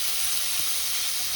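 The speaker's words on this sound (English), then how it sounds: "After the garlic browns, add in the meat." Beef frying in a pan with browned minced garlic for a Cambodian beefsteak, giving a steady, even sizzling hiss throughout with no talk.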